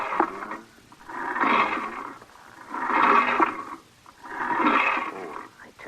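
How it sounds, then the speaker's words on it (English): A hand crank turned on a silver extender machine makes three slow, evenly spaced grinding swells, each rising and fading over about a second and a half, close and fairly loud. "Now, I give the crank 4 complete turns."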